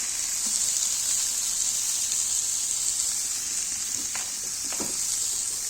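Fish frying in a pan with a constant close sizzle, broken near the end by a few faint stirring scrapes, and no talking.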